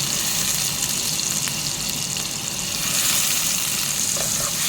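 Minced garlic sizzles in melted butter in a frying pan for pasta, a loud, steady, close crackling hiss that carries on without pause and with no voices.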